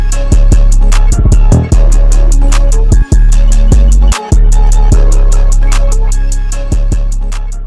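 Trap drum pattern programmed in Logic with a velocity sweep on fast hi-hat rolls over deep booming 808 bass and kicks, loud and continuous with no talking.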